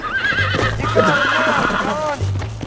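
Horse in the video game Red Dead Redemption neighing and whinnying repeatedly while being tamed, with game hoof clatter and low rumbles, as someone speaks over the sounds.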